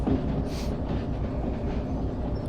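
Train rolling along rails in the video game Derail Valley, played in VR at a harbor, a steady dense low rumble with faint clickety-clack, continuous and fairly loud, with no voices.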